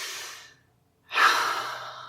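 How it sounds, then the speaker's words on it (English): The tail of a soft exhale fades to silence, then a single deep breath in is drawn close to the microphone, airy and fairly quiet. "I know that wasn't a good breath"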